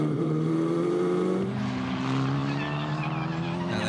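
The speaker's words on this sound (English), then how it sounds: "Bit of a lock up into the hairpin." Formula 4 race car tyres lock up and squeal under heavy braking into a hairpin, with a loud steady engine drone and a harsh screeching skid taking over partway through, close to the mic.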